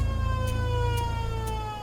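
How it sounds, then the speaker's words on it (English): A loud, steady siren wail at an air base with a low engine rumble beneath, holding a constant tone and fading slightly at the end. "The siren is sounding at the Nostell Air Base."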